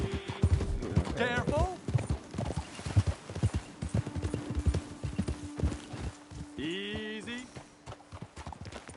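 Hoofbeats clip-clop steadily under shouted voices in the video game Red Dead Redemption 2, with a horse whinnying partway through against a constant background hum.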